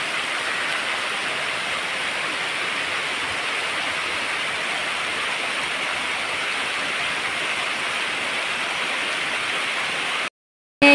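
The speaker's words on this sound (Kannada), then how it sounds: "ಸ್ವಲ್ಪ ಕಡಿಮೆ ಇತ್ತು ಮಳೆ, ಇವತ್ತು ಜೋರುಂಟು" Heavy rain pours steadily outside a house window, a broad, even wash of hissing water that holds constant for about ten seconds before cutting off abruptly, with no voices.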